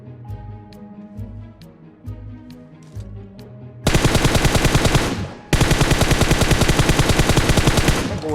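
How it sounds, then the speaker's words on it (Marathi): Rapid automatic gunfire in a shooter video game, opening with a few scattered shots over background game sound, then two long, loud, continuous bursts. "137 गोळ्यांचा वर्षाव होणार आहे आपल्यावरती"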